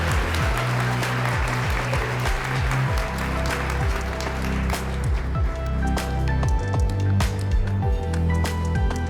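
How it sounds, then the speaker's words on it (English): Applause from an audience at a business awards event honouring women, with many hands clapping steadily alongside some sharper individual claps and a low rumbling undertone throughout. "Please, everyone, one more round of applause so she can hear us wherever she's watching today."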